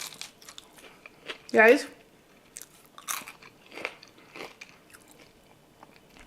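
Crisp bites and chewing of air-fried French fries, one loud crunchy bite near the start followed by quieter chewing, with a voice speaking briefly.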